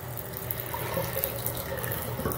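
Cold water runs steadily from a domestic faucet during a one-piece toilet install, with the main supply shut off, giving a continuous gushing hiss with no talk.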